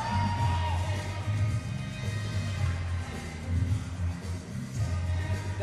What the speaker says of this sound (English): listen to this crowd. This crowd is on their feet going absolutely crazy